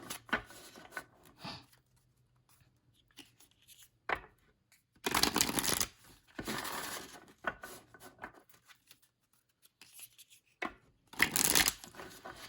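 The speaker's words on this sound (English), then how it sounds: "They shuffle really, really well because of how thin they are." Thin playing cards being shuffled in several quick riffling bursts, close and crisp, separated by quieter pauses with light handling noises.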